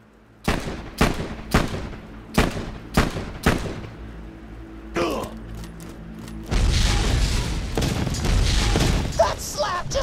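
A vehicle called a buzzard explodes in the video game Borderlands 2, following a run of six loud, sharp, evenly spaced booms like heavy gunfire, then a roaring blast and a sustained crackling, rumbling burn.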